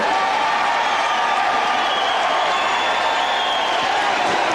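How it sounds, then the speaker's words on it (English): Boxing arena crowd cheering Evander Holyfield's heavyweight title win over Dokes in 1989, a broad continuous roar with whoops and scattered clapping, steady and loud throughout. "The crowd cheers him"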